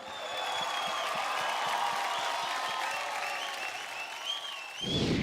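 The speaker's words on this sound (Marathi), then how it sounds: "जोरदार टाळ्या होऊन जाऊ द्या सौरभ आणि मृण्मयीसाठी." Audience applause for dancers Saurabh and Mrunmayee on a televised Marathi dance competition stage, dense steady clapping from a large crowd filling the whole stretch before fading near the end.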